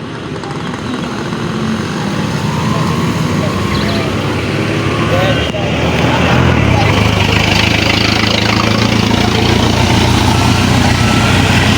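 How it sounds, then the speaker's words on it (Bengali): The engine of a vehicle that crashed at a bus stand in Manikganj keeps running as a steady, loud drone, with voices from the surrounding crowd over it. "এখনও ইঞ্জিনটা চালু"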